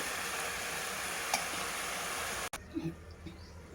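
Goat head curry with turmeric sautéing in a pan, a soft steady sizzle and stir running throughout, then a sharp clunk and a drop to quieter frying with a few light scrapes.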